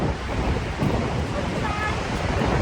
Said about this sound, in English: Dropping down to another cascading falls right down here in this canyon